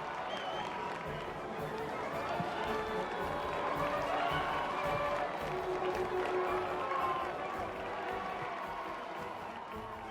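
A large crowd cheers and applauds enthusiastically in a sustained, dense roar that holds steady for the whole stretch, with scattered voices mixed into the noise.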